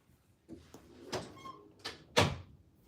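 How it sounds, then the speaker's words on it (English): A room door is pushed shut with a few soft bumps and a firmer thud near the end, close by and fairly quiet, with no voices. "let me close the door"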